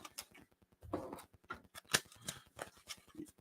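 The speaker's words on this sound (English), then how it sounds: "we'll shuffle again" Deck of tarot cards being shuffled by hand, a quick series of crisp riffling and flicking bursts with irregular rhythm, close and fairly quiet, no voices.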